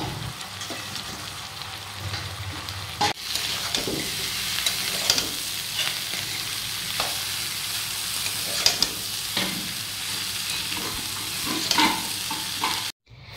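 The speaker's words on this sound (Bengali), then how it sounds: "এটা সামান্য লবণ আর সামান্য হলুদ দিয়ে এই শাকটা ভাজা হয়" Potatoes and leafy greens seasoned with a little salt and turmeric sizzle steadily in a pan. Repeated scraping stirs sound throughout, close and fairly soft, with no talking.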